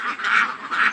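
Domestic ducks being readied for sale quack twice in quick succession, close and fairly loud, with no talk.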